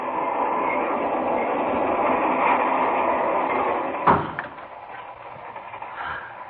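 A radio-drama sound effect of a running passenger train: a steady rolling rumble and rattle that carries on evenly, broken by a sharp clunk about two-thirds through, after which the noise drops lower and quieter.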